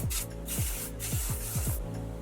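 Repeated short bursts of hairspray hissing close by, roughly evenly spaced, with a low mechanical hum underneath.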